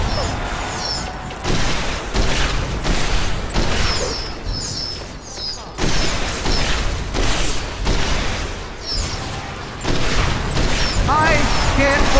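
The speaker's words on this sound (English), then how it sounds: "Shots take down an Iceman laser blazer turret." Gunfire destroying a laser turret in the video game Super Monday Night Combat, loud rapid bursts of shots and impacts in repeated volleys, with an announcer-style voice talking over the action.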